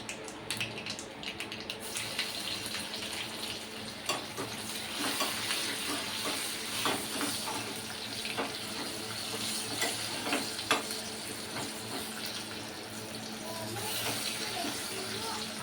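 Spices for a tempering crackle and sizzle in hot oil in a pan over a lowered flame, while cooking a mango dal with gongura greens; a steady, dense frying hiss runs throughout with scattered sharper pops.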